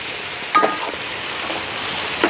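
Tomatoes fry in hot ghee for a biryani, giving a steady, close, crackling sizzle with a couple of brief stirring scrapes and no talk.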